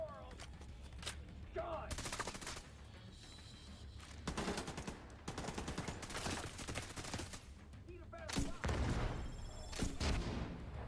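Video game gunfire in bursts of repeated shots, some rapid like automatic weapons, with louder blasts near the end, running through the clip alongside a voice.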